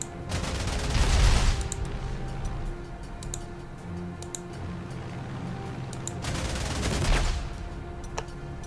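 During a bombing attack in the strategy game Panzer Corps 2, two heavy blasts land a few seconds apart. Each burst rumbles and then fades, and faint ticking fills the gaps between them.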